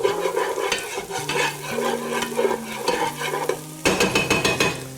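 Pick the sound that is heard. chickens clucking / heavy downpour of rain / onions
onions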